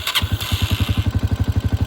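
A Honda TMX 125 motorcycle cranks on its electric starter and catches, settling into a steady, close, rhythmic single-cylinder idle with regular thumping pulses.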